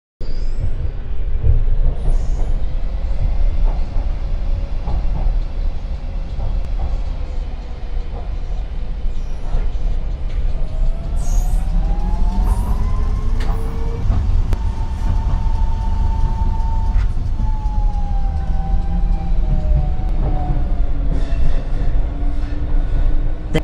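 A tram runs between stations with a continuous loud rumble, rising and falling motor whine and occasional metallic squeals from the track, heard from on board with no talk.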